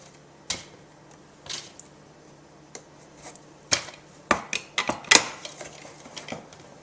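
A Gourmet Quick Chop plunger chops onions and jalapenos. There are sharp plastic clacks and knocks, sparse at first, then a quicker cluster of hard chopping strikes near the end.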